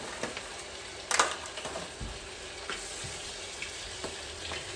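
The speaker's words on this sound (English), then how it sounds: "As you can see, it's frying up really, really nice in there" Espanyol brown sauce frying in a pan, a steady crackling sizzle with a brief louder burst near the start, no voices.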